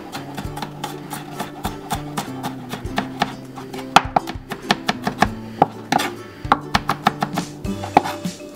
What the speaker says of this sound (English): So we'll start by slicing it. And then we'll mince it.